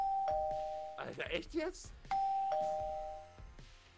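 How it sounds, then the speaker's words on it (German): A two-tone ding-dong doorbell chimes twice in the Minecraft video game, each pair of notes ringing clearly and fading, with a voice speaking briefly between the rings. "Die Klingel macht mich verrückt."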